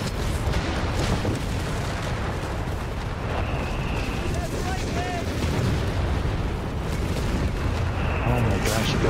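Artillery fire rumbles through a Company of Heroes 3 battle, a dense continuous barrage of booms and bursts, loud and close, with game voices talking over it.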